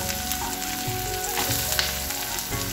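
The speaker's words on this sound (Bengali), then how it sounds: "তেলেতে একটু রসুন দিয়ে দেবো, পেঁয়াজগুলো দিয়ে দেবো" Garlic and onions sizzle steadily in hot oil in a pan, a continuous dense frying hiss with no one talking.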